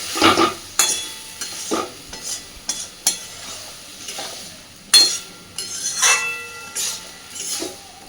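Repeated scraping and clanking of a utensil stirring soybean chunks in a pan after a little water is added, with a soft sizzle of frying underneath, close up and unhurried.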